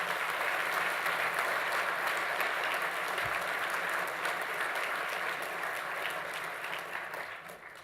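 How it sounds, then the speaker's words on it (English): A banquet audience gives award winners a sustained round of applause, steady and full at first, then thinning and fading toward the end, with no voices over it. "please give all of our award winners one more hearty round of applause"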